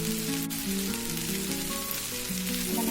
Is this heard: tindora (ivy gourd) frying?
yes